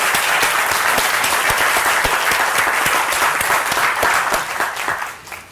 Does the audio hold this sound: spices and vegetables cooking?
no